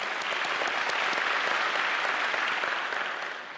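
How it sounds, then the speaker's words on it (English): An audience at a city State of the City address breaks into a sustained round of applause, a dense, even roar of many hands clapping that holds steady and then begins to fade at the end. "that deserves a round of applause"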